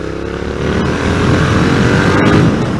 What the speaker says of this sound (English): Yeah, that's motorcycle.